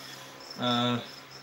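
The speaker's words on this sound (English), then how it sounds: "Just had a cricket escape." A single cricket gives one short, loud, close chirp of about half a second, a clean buzzing trill standing out against a quiet indoor background.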